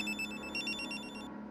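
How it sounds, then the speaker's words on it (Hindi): A telephone rings in a household scene, its bright trilling bell repeating in quick bursts over a low background murmur, with no speech over it. "माधव, अरे किसका फोन है?"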